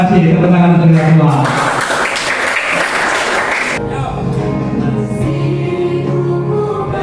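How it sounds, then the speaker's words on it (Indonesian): Audience applause follows a school address, a broad wash of clapping in the middle, then fading back under a steady background tone and voices. "tepuk tangan untuk kita semua"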